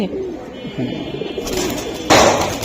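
Pigeons in a loft coo low and close in soft repeated murmurs, with loft clatter and a brief burst of noise near the end.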